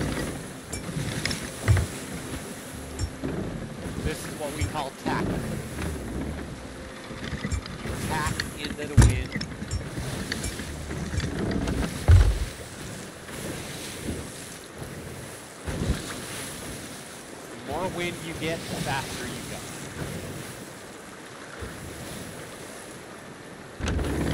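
A sailing ship in Sea of Thieves pushes through wind and waves, with steady rushing wind, surf wash and occasional thumps and creaks. A voice talks over it throughout.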